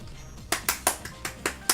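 Forced applause in Sonic Adventure DX: a short burst of about seven crisp, evenly spaced claps, close and clear over a quiet game background.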